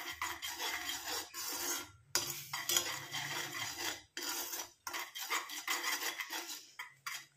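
A powdered herbal hair dye mixture being stirred in a bowl, scraping and rubbing in steady strokes with brief pauses between bursts, close and fairly loud with no talking.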